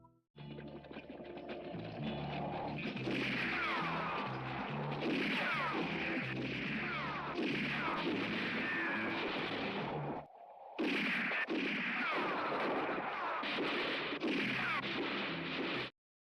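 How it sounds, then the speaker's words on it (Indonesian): Gunshots ring out from outside during a film scene, a dense run of sharp bangs and cracks layered over a steady loud background, with a brief pause before the barrage resumes. "terdengar suara tembakan dari luar"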